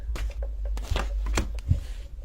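Tarot cards shuffled for a reading, a few quick riffling bursts and soft card slaps up close over a low background hum.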